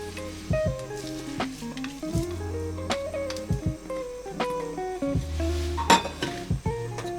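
Sautéed onions go into a lightly oiled pan while preparing a pissaladière topping, with clinks and scrapes of a utensil against the pan and soft sizzling underneath, close and steady.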